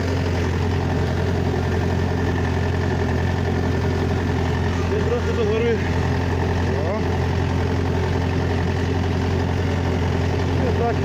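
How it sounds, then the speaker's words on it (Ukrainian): A DTZ tractor engine running steadily at 1350 rpm while pulling a Virax sprayer, a constant loud, even drone from close by with faint background noise. "1350 оборотів двигуна, друга підвищена, вал відбору 540"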